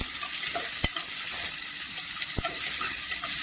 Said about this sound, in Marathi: आपण इथे मोठे 2 कांदे चिरलेले टाकायचे. इथे छान असं तेलावर परतून घ्यायचं.